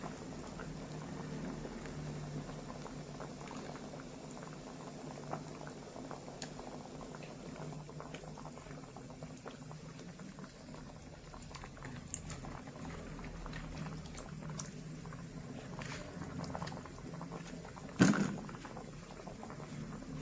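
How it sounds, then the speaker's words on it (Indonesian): Coconut milk simmers in a pot for mangut with smoked shark, tofu and petai. A steady, close bubbling and gentle patter runs throughout, broken by one sharper knock near the end. "Kita masukkan santan."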